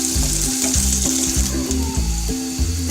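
Whole cloves, cardamom, cinnamon and bay leaf frying in hot oil while being stirred for beef vuna curry, with a steady close sizzle and repeated scraping strokes in an even rhythm, no talk.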